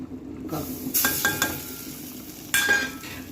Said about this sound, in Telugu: గుడ్లు ఫ్రై చేస్తామండి. ఉప్పు, కారం, పసుపు,